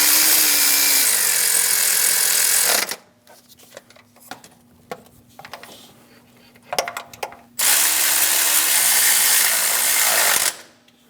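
A power tool snugs down the bolts on a belt tensioner of a 2003-2025 Chevrolet Express 2500, whirring loudly in two bursts separated by a quieter stretch of faint clicking and tool handling.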